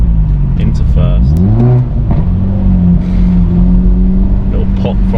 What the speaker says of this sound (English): Little pop from the exhaust there.